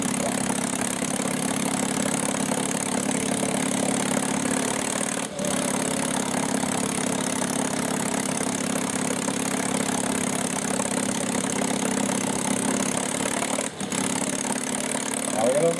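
A 1920s Indian Scout motorcycle engine runs continuously in a steady, buzzing idle-like drone, close and even, with two brief dropouts.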